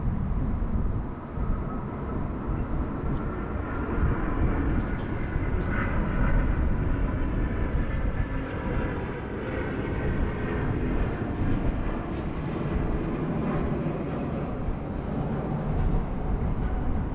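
A Cathay Pacific airliner bound for Hong Kong departs Sydney Airport in high wind, its jet engines a sustained, broad roar that holds steady and fairly loud throughout, with no talk.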